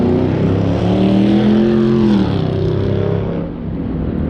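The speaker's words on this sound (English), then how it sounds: "there's no reason the Chargers should sound like a motorcycle." A Chrysler-era Dodge Charger engine idles and revs with a rough, throaty, motorcycle-like burble, loud and close, dropping slightly toward the end.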